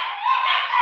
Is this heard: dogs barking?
yes